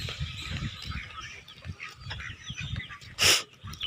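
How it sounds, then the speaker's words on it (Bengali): Ducks call in a village amid faint outdoor background, with one short, loud, sharp call near the end. "হাঁসগুলো আছে"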